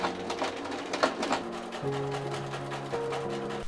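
A sewing machine runs a straight stitch along a fabric placket, a close steady mechanical whir with rapid rhythmic needle clatter that shifts pitch as the speed changes, with no talking.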